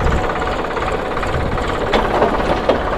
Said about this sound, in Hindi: अब ये ट्रैक्टर ने टर्न ले लिया है